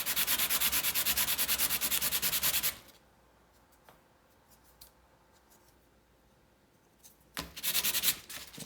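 A Sig Sauer P320 grip module is sanded with 100 grit sandpaper: quick, loud rhythmic rasping strokes for a few seconds, then a quiet pause with small handling taps, then the scrubbing resumes briefly.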